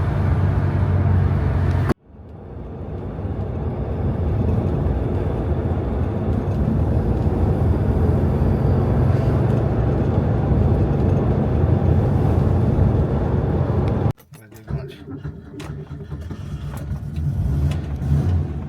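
A Porsche 924 with 53,000 kilometres on it accelerating hard on the road at full throttle, a loud, close, continuous engine roar that cuts out briefly twice and then resumes.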